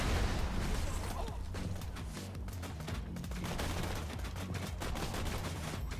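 Rapid, continuous gunfire from a high-recoil weapon in the video game Borderlands 2, loud and dense throughout, with bursts and scattered explosive booms.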